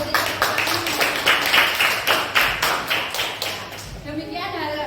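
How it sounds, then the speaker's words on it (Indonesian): Classroom applause after a student group finishes its presentation: a burst of quick, loud clapping from a group of pupils that fades out toward the end as faint voices take over. "Kita beri tepuk tangan."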